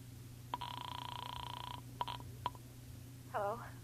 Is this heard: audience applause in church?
no